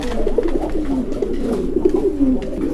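Pigeons coo steadily at a pigeon market where fancy, Giribaz, Sirazi and racer birds are sold, a dense overlapping chorus of soft throaty calls with no talk.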